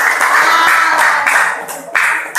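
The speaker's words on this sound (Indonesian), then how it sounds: "Kita dengarkan pula tepuk tangan kelompok 1" Brief classroom applause for group 1 in a project-based learning lesson: a dense, close patter of student clapping that thins toward the end, with a few sharper claps.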